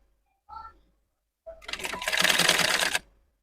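A sewing machine stitching pleats into aso-oke gele fabric, a short whir, then a steady buzzing run of fast stitches for about a second and a half, close and moderately loud, with a brief sound before it.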